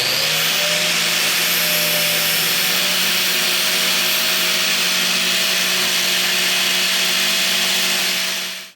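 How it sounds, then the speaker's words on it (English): A power tool cuts down a 5/16 bolt, giving a steady, loud whine with a sustained metallic tone that runs unbroken for about eight seconds and then cuts off abruptly. "So I'm gonna chop down a 5/16 bolt and just use that instead."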